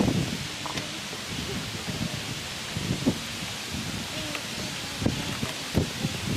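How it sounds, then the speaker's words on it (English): Steady broadband wind rushes and buffets outdoors near a pond where ducks are being fed, with gusty peaks and rustling throughout, loud and continuous. "It's so windy out here"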